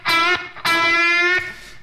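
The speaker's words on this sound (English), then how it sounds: "adding some acoustic distortion with some muted strings" Distorted electric guitar notes bent upward, with scratchy muted-string clicks between them; two long sustained bends, loud and close, no talking.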